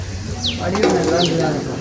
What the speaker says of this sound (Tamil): புறா பார்க்குறீங்களோ புறா புறா பறந்து போகுது